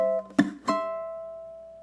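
Ukulele playing a single-note 12 bar blues measure: a held note, two quick plucked attacks, then a final note left ringing and slowly fading, close and quiet.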